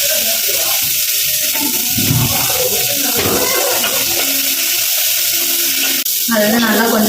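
Onions sizzle in hot oil with mustard seeds and curry leaves in a home kitchen, a steady close frying hiss broken by stirring and clatter, with a voice heard faintly at times.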